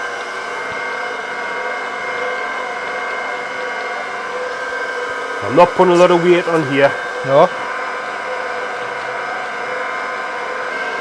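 A crankshaft grinding machine for a Cosworth YB engine whirs in a steady hum throughout, with a brief scraping burst partway through and people talking over it.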